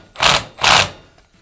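An impact gun snugs a brass bypass valve fitting during a Kranzle pressure washer unloader valve rebuild, giving two short, loud, close rattling bursts separated by a brief pause.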